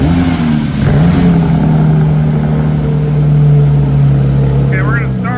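Porsche 992 GT3 fitted with a JCR exhaust idles loudly and steadily nearby, a deep droning tone holding through the clip with a brief dip early on, and no talk over it.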